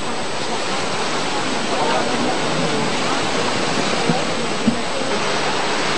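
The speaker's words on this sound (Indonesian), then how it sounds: "banjir bandang yang terjadi di Banyumas, Jawa Tengah malam tadi menyebabkan sejumlah rumah warga rusak dan hanyut terbawa banjir Sungai Banjaran" Flash-flood water on the Banjaran River in Banyumas, Central Java, roars in a steady, dense, loud rush with no pauses, a few faint knocks surfacing near the end.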